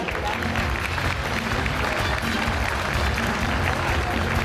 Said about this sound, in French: Je vais vous demander de les applaudir bien fort également.